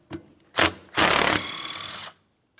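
Ratchet work on the three 15mm bolts holding the power steering pump assembly to its bracket on a 2007-2014 GMC Sierra 2500 HD: a short click, a burst of ratcheting, then a longer steady grinding run, close and fairly loud.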